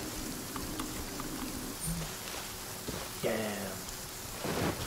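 Steady rain falling with a low rumble of thunder in the game Genshin Impact, a constant hiss under occasional brief sounds.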